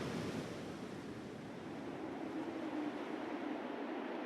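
Ocean surf rolls onto wild, open Cassino beach in southern Brazil, a continuous broad wash of breaking waves with some wind, steady and moderately distant, with no voices.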